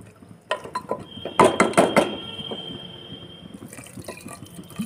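Lentil dal being stirred in a cooking pot: clattering metallic clinks and scrapes in a quick cluster, then softer intermittent stirring noises fading under a faint steady hiss.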